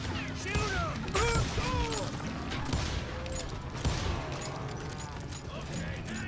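Rapid gunfire rings out in a western-themed video game, loud bursts of shots and impacts mixed with an excited voice talking over the action.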